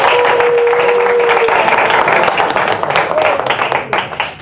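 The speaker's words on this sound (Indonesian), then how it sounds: "Tepuk tangan buat teman-teman yang baru." Audience applause welcoming new members at a public speaking session, a steady mass of clapping with crowd murmur and a brief tonal whine, fading toward the end.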